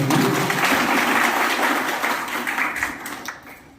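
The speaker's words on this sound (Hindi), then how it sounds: "निश्चित रूप से उनका एक बार तालियां बजा के आप सब" Audience applause at a Gita Jayanti festival gathering in a yoga meditation ashram, a dense burst of clapping that stays loud, then thins and fades out near the end.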